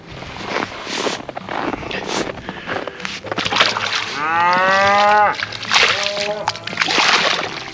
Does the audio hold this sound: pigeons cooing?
no